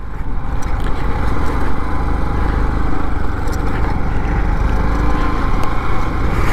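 A group of motorbikes rides through a pine forest on a North Bengal trip, their engines making a loud, steady, close drone with no break and no talk.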